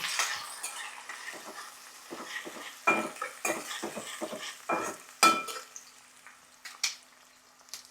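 Curry leaves and onions go into hot oil and are stirred for a ladies-finger curry. Faint sizzling runs under sharp, irregular spatula scrapes and metallic knocks against the pan, close by.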